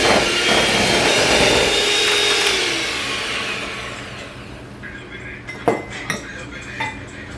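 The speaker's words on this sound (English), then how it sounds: "I'm gonna mix that up just to make it all blended." Lemon being mixed into birthday cake batter in a bowl at home, a steady scraping whir of mixing that is loud at first and fades, followed by a few sharp clinks of utensil against the bowl.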